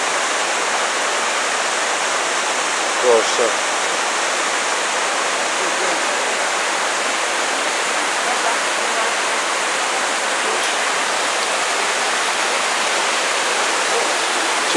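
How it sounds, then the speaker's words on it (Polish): A steady, full rushing roar of the Szklarka waterfall, close and constant, with a brief spoken word briefly breaking through. "No i jest wodospad."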